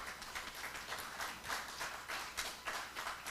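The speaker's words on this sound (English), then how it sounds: "Can we give her a round of applause?" At a law journal induction and turnover ceremony, an audience applauds with dense, even clapping that sounds faint and distant throughout.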